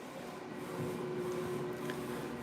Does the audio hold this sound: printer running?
yes